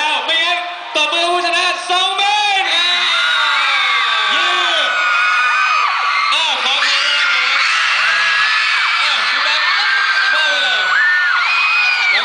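A large crowd at a Thai fan event screams, whoops and cheers loudly and continuously, with high-pitched shrieks rising over a steady roar of voices.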